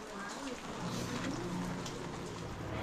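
Steady rain falls in a continuous soft hiss that holds level throughout, with no clear breaks or individual drops standing out.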